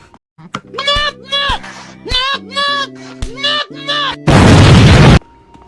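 Incendiary rounds fired in Resident Evil REmake erupt as one loud, roaring blast lasting about a second, after a run of shouted, drawn-out voice lines from the game.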